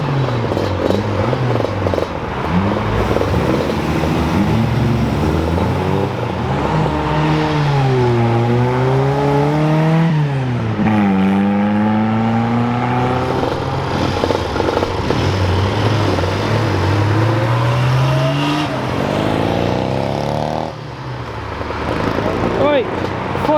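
Classic cars pull away from Brooklands one after another, their engines revving up in rising and falling sweeps that sound fairly close. Steady crowd chatter and traffic noise run underneath throughout.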